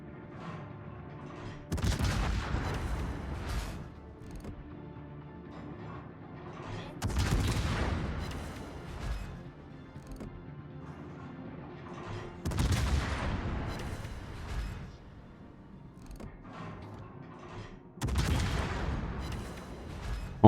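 Naval guns on the USS Des Moines fire in a video game: four heavy booming salvos a few seconds apart, each a broad rumbling blast that decays slowly.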